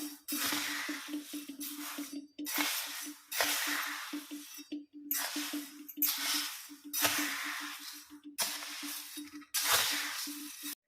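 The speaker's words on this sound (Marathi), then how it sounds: "आणि आता ही मेथी मी गव्हामध्ये ओतून देणार आहे मिक्स करून घ्यायचं" Fenugreek stirred into roasted wheat in a pan, giving a series of close, rhythmic scraping and rustling strokes over a steady low hum.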